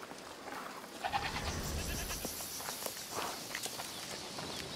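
Goat bleats and shuffling footsteps from A Plague Tale: Requiem, soft and somewhat distant over a steady ambient bed, with no talking.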